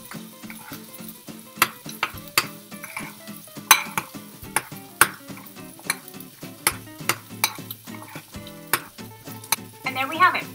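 Salisbury steak being stirred in a pan, a spatula scraping and tapping against the metal in repeated sharp knocks over a low sizzle, close and fairly loud.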